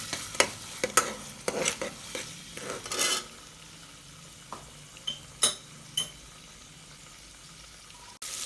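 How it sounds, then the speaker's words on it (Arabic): A spoon stirs tomato paste through onions in a frying pan, giving soft scraping strokes with sharp metallic clinks against the pan and a faint sizzle underneath. The clinks come in irregular bursts and then die down to quieter frying. "بحط معلقة صغيرة صلصة طماطم وبقلبهم مع بعض"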